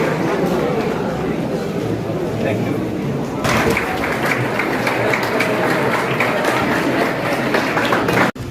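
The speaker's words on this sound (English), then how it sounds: "Can we have a big round of applause?" Audience applause at a school or college event as a student is called up, sustained clapping that surges louder partway through and continues with voices mixed in, then cuts off abruptly.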